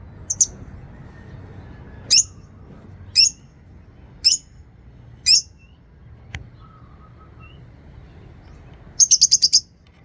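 Lovebirds, small parrots, give short, sharp, high chirps spaced about a second apart, ending in a quick rapid burst of five or six calls, close and clear over a quiet background.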